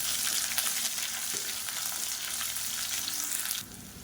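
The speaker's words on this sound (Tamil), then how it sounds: "இப்போ பாருங்கள், வெங்காயம் நல்லா வதங்கிடுச்சு." Chopped onions and slit green chillies fry in oil in a pan for a coconut curry, giving a steady, dense sizzle with occasional stirring scrapes that thins out abruptly near the end, with no talk.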